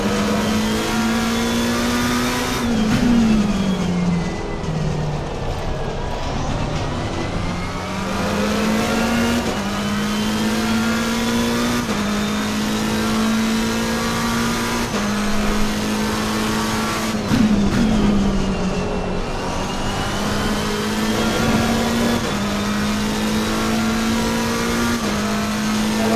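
Race car engine in a sim racing game at the Imola circuit, revving and shifting through gears again and again, rising and falling in pitch, loud and steady for almost half a minute.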